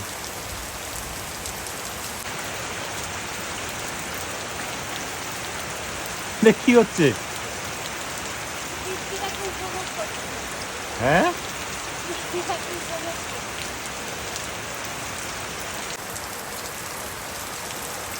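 Heavy rain pours steadily on surfaces throughout, a dense, even hiss, with a few brief voices speaking over it.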